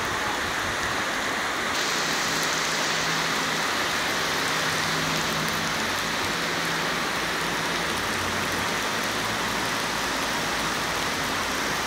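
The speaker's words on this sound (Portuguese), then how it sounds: "Chuva mais forte de Livramento nesse ano" Heavy rain pours down in Livramento as a loud, unbroken roar of water hitting surfaces, with a faint engine-like rumble underneath and no voices.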